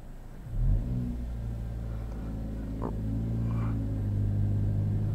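A 2021 Kia Forte with manual transmission pulling away from a stop, a low steady engine hum and rumble that rises slightly as it accelerates, close and fairly quiet, without talking.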